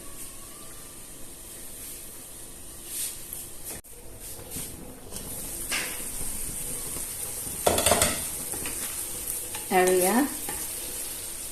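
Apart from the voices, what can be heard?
masala frying and being stirred in a pan for chicken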